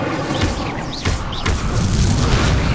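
Fire spell Incendio cast in the Hogwarts Legacy video game, a loud booming burst with crackling, rumbling flames and thuds from a busy duel, continuous and dense.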